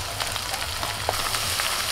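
Steady low sizzle of rice frying in hot oil with bay leaf and whole spices, a soft continuous crackle with faint stirring clicks, close and moderately quiet, no talking.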